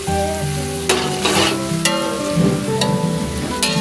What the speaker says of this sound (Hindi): ये आप प्याज़ों को अच्छी तरह से गोल्डन कर लेना है, फ्राई कर अच्छी तरह से